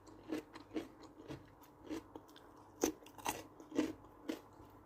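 Crisp, crunchy bites into German-style Bulgarian turshiya pickled vegetables, a series of about eight to ten sharp close chewing crunches at an irregular steady pace, with no talking.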